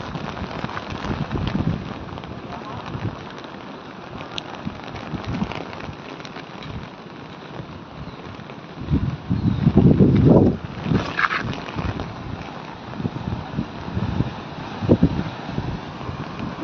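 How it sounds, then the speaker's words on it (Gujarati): Light rain and gusting wind along the Bhadar river in flood below an opened dam, a steady wash of drizzle and wind noise with stronger blustery bursts around the middle and near the end, no voices. "સાથે પવન પણ છે અને ધીમી ધારે વરસાદ પણ શરૂ થયો"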